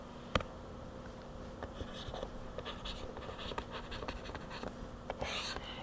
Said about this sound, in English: Draw a little line right here.